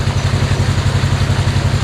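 A small engine runs a water pump filling a pond at a farm, a loud, close, steady throbbing idle with even rapid pulses and a rough clatter, with no speech.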